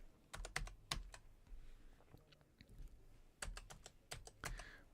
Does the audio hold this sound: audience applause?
no